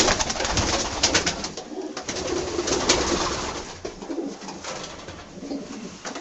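Pigeons coo softly and repeatedly inside a loft, several birds overlapping at close range with rustling in the background and no talking.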